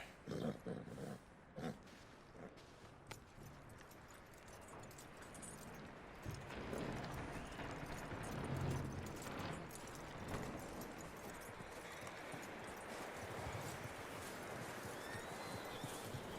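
Horse hooves clip-clop in Red Dead Redemption 2, faint and fairly steady under a wash of ambient game noise, with a few louder thumps early on.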